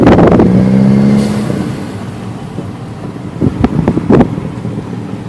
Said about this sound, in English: you can't tell me that this exhaust does not sound good